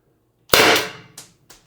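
A Byrna LE launcher firing 4.6g LLB ammo: one sharp, loud close pop with a ringing decay, followed by two fainter clinks.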